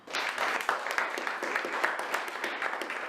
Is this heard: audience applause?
yes